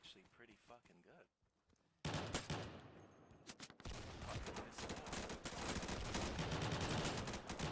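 Video game gun firing in rapid, dense bursts that sound like loud sustained automatic fire, preceded by a moment of quieter game sound and a short pause before the shooting erupts.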